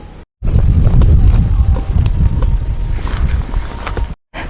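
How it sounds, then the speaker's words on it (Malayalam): Strong outdoor wind buffets the microphone in loud, sustained gusts at an open-air cooking spot where a wood fire is being lit, with brief silent breaks at the start and end. "നല്ല കാറ്റുണ്ട്."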